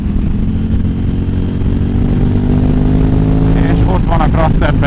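A motorcycle engine drones steadily while riding through strong crosswind, with wind rushing loudly over the microphone and the engine note rising toward the end.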